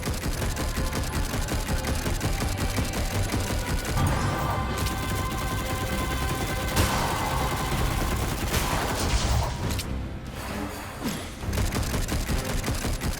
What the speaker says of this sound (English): I really like the rapid firing.